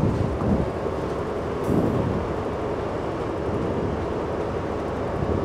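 An ÖBB locomotive rolls along in a train-driving simulator on the route to Innsbruck Hötting, giving a steady, broad rumble of wheels and motion with a brief squeal-like burst near the start.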